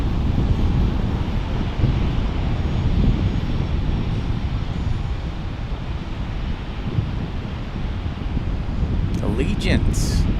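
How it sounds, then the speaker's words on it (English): Allegiant Airbus A320 jet at Fort Lauderdale airport preparing to depart, a steady broad engine roar and rumble lasting throughout, mixed with wind buffeting on the microphone, with a brief higher whine near the end. "An Airbus A320. Preparing to depart."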